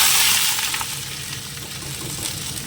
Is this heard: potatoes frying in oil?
yes